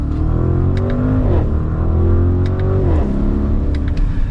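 Engine of a 2022 Audi RSQ8 SUV, in dynamic mode with manual shifting, pulls hard under acceleration, its exhaust note rising steadily, dipping at two quick upshifts, then climbing again, loud and close, with no talk.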